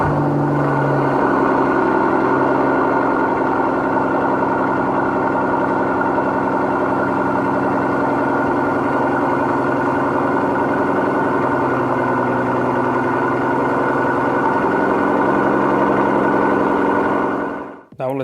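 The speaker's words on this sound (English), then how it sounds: "And now let's hear in the Sport Plus how this engine sounds" A 2020 Mercedes S65 AMG V12, Final S-Class Edition, runs in Sport Plus mode with a loud, steady, deep engine drone held for nearly the whole stretch before cutting off abruptly at the end.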